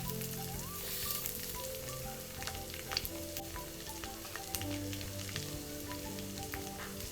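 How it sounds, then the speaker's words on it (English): Garlic fries in a pan with a steady, fine crackling sizzle throughout, dotted with small pops, fairly quiet and close, with a faint low hum underneath. "we're going to fry this garlic in this"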